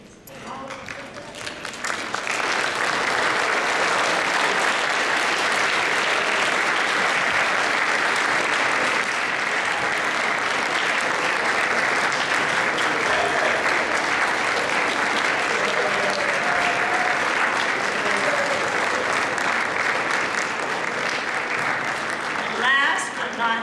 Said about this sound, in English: give them one last round of applause, please